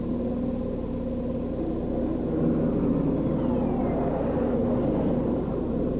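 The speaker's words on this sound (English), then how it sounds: "I've never heard a helicopter like that" A steady low rumble of an aircraft overhead, continuous and fairly loud, swelling slightly midway with no other sounds.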